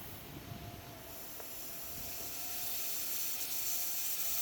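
Air hissing steadily from a leaking vehicle air suspension hose that is being wiggled, a continuous broadband rush that slowly grows a little louder, with a faint tonal whine.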